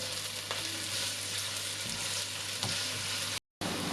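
Onion frying in a pan for a dish of pite with eggplant and minced meat, a soft continuous sizzle heard close up, with faint stirring knocks and no talk.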